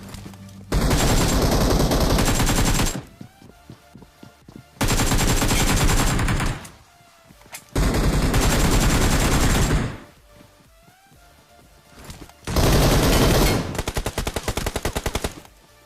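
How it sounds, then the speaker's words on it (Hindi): Bursts of automatic gunfire in the battle royale game BGMI, loud and close, arriving in four long sustained volleys separated by quieter gaps with no talking. "क्योंकि रोजहॉक में फायरिंग के साउंड आ रहे थे जैसे ही आए"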